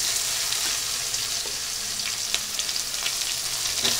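Chopped onions hitting hot oil and frying for a Bengali fish curry, a steady bright sizzle throughout with a few faint clinks of stirring.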